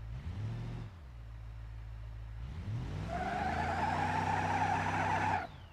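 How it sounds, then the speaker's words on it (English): A car with a welded differential does a burnout in the BeamNG.Drive driving game, its engine revving hard while the tires squeal loudly and steadily for several seconds before cutting off. "So we're gonna see how nasty of a burnout it can do."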